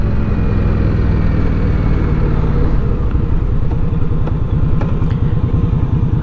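A motorcycle engine rumbles steadily while riding along a country road, a loud, constant low drone with wind noise and a slight shift in engine pulse partway through.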